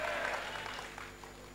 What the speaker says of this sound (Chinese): 要鼓掌，大声鼓掌